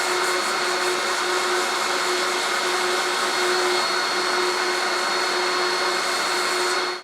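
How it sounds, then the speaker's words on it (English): A hollow globe ornament is sanded as it spins on a lathe, giving a continuous, even, close whirring hum with a steady hiss over it that cuts off abruptly at the end. "Now I'm just going to sand it."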